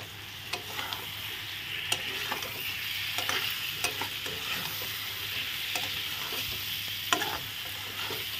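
Fried pointed gourd pieces are stirred with spices in a pan, giving a quiet bed of sizzling broken by irregular spatula scrapes and occasional sharper clicks against the metal.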